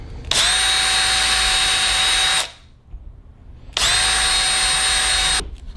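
A power drill bores holes through a wooden dowel to make tarp toggles, running in two loud, steady bursts of about two seconds each, separated by a short pause, with no talking.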